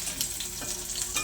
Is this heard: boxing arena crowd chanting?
no